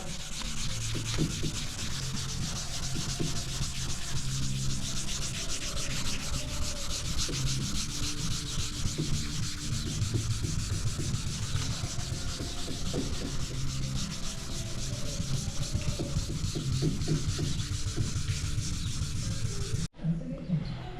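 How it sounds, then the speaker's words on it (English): Steady, continuous hand sanding of a Chevrolet Caprice's car roof, a dense scraping rasp that stays loud and close and runs unbroken for about twenty seconds, with no voices over it. "Got it all sanded down."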